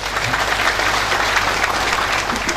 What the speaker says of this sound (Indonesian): Tepuk tangan lu buat beliau.